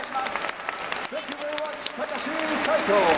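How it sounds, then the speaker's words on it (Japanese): A stadium crowd applauds Takashi Saito's ceremonial first pitch at a Japan–US baseball series game, a broad wash of clapping that swells toward the end while an announcer's amplified voice carries over it. "皆様盛大な拍手をお願い"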